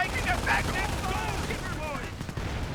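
Machine gun fire in the WWII strategy game Company of Heroes, sounding as dense continuous battle noise with overlapping bursts and whistling tones, steady and fairly loud throughout.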